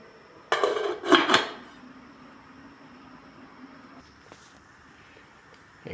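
A lid clatters onto a metal cooking pot of shrimp sinigang, giving a couple of close, sharp metallic clanks followed by a quiet simmering hiss.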